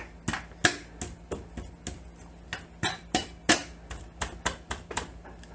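A slide hammer drives a high-performance piston into an engine cylinder, making a close series of sharp metallic knocks in an uneven rhythm, about a dozen and a half blows with brief pauses between them.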